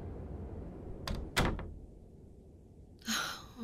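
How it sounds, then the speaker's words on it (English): A door thuds shut with a couple of sharp knocks on a snowy night during a blizzard, followed by a brief breathy sigh. "Close the door."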